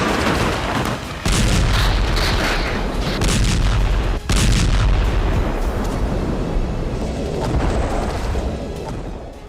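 Heavy bombardment blasts in residential areas of Khan Younis, Gaza, loud and continuous with deep rumbling booms and sharp bursts, a big impact around four seconds in, no voices.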